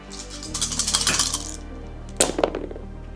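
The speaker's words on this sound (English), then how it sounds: "we will be 3 blue dice and 1 black dice for this roll" Four plastic dice, three blue and one black, clatter across a tabletop for a Star Trek miniatures game roll, a rattling tumble followed by a brief second clatter as they settle.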